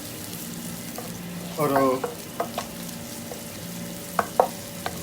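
Drumstick leaves are stirred and fried in a pan with fennel seeds, a soft steady sizzle under a brief scraping stir and a few light clinks, close and moderately quiet, with a word or two of speech.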